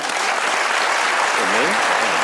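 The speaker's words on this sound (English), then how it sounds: "he deserves a great round of applause" Audience applause after a Q&A talk with Tim Keller, a steady wash of clapping filling the hall, with a brief voice rising faintly through it near the end.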